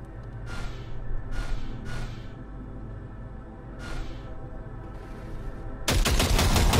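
Several sharp gunshots from the video game Cyberpunk 2077 ring out in a sparse sequence over a low hum, followed by a sudden loud burst of rapid fire at the end.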